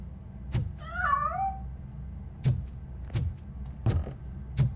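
A cat meows once in RoboCop: Rogue City, a clear, wavering mid-pitched call heard close and alone, with several dull thuds of footsteps or movement around it.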